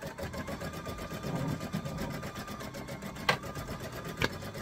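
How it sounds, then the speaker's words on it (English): A sewing machine runs an embroidery design at a steady, quiet mechanical hum with fast regular stitching pulses, with two brief clicks standing out near the end. "Then you put the presser foot back down and let this thing rock."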